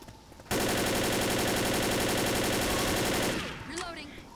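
Rapid automatic gunfire in the video game Left 4 Dead, firing at the Smoker in one continuous burst of about three seconds, loud and dense, then cutting off into fainter game noises.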